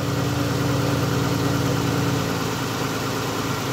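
A 2011 Dodge Avenger with a 3.6 liter V6 idles steadily, a continuous close, even engine hum with a low rumble and no voices throughout.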